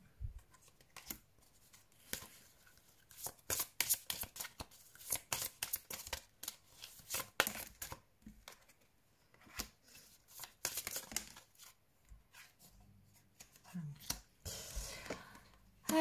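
Tarot cards are shuffled and riffled in quick bursts, faint and close, with soft pauses and light handling between flurries.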